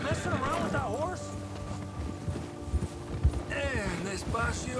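Horse hooves clip-clop in Red Dead Redemption 2 as a rider moves at a walk, soft irregular thuds running under a voice and other game sounds.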